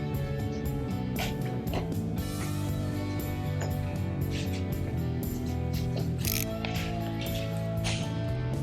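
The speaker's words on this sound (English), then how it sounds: "we'll tighten all the bolts in a crisscross pattern" A ratchet tightens the windshield mounting bolts on a Cat utility vehicle, its dense clicking running steadily throughout at close range with no speech.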